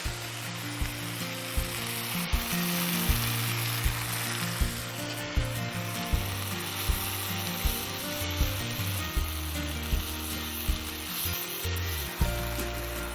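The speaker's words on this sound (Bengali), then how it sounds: "এবার দেবো পেঁয়াজ বাটা" Onion paste frying in a pan, a dense continuous sizzle with a steady low rhythmic rumble beneath it.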